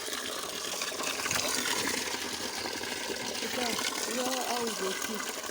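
Drinking water runs steadily from a spring in the Carpathian mountains, a continuous gushing trickle heard close up, with faint voices speaking briefly over the flow.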